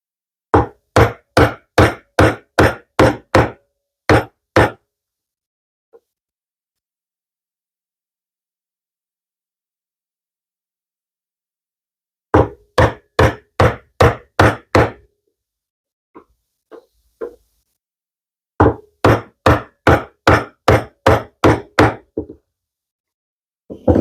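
Chisel struck and levered in a wood workpiece held in a vise, giving loud, dull knocking blows in rapid bursts of about eight to ten hits, separated by pauses with a few isolated taps.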